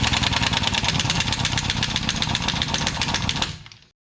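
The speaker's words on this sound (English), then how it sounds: "Our compressor sucks" A Harbor Freight 20-gallon air compressor runs with a loud, steady, rapidly pulsing motor chug close by, then winds down and cuts off near the end.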